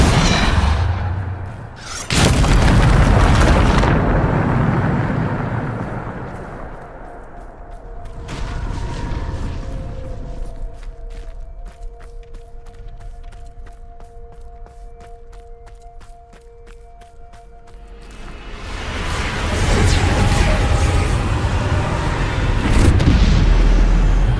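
The Depulso spell in the video game Hogwarts Legacy unleashes loud, heavy booming blasts at the start and end, with a sustained rumbling roar and a steady tonal hum between them.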